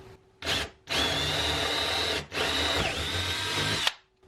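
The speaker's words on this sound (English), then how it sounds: "Just going to take a drill and put a single hole down in here." Power drill boring a single hole into wood for a popup power strip, in two loud close bursts of whining, grinding drilling separated by a short pause.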